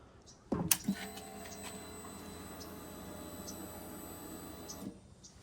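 The fuel pump on a flooded 2008 Triumph Daytona 675 motorcycle primes after a sharp click, running as a steady, quiet electric whir and hum for about four seconds before stopping.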